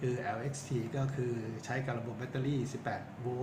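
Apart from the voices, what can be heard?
No distinct noise like a dog, phone or traffic.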